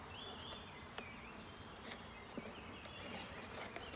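Faint, steady buzzing of honeybees hovering nearby while a new bee package is installed in a hive, a soft continuous drone with occasional small clicks.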